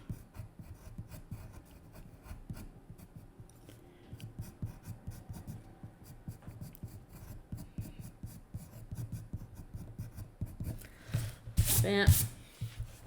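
An eraser rubs pencil off paper in a steady, soft scratchy back-and-forth at close range, swelling into a brief harder scrub near the end.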